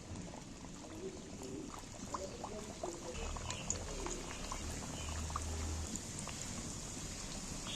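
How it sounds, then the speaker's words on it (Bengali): Puri khaja pastries dropped into very hot oil for deep-frying, a faint, steady crackling bubble with scattered pops throughout, quiet and close, no voices. "দেখো তেল গরম হয়ে গেছে খুব গরম তেলে এটা ডুবুনি"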